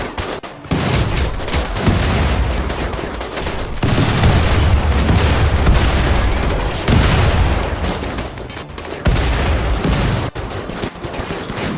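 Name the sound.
rocket launchers and explosions in the video game RimWorld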